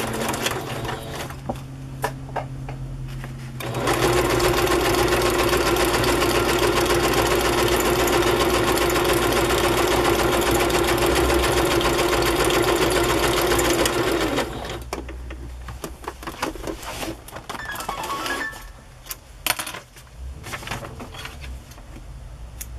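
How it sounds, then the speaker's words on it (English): A sewing machine runs a zigzag stitch through white lace on fabric journal pages, a loud, steady mechanical whir holding for about ten seconds before stopping, with quieter handling noises around it. "Just sew a zigzag stitch right down the center."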